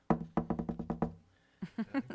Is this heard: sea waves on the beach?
no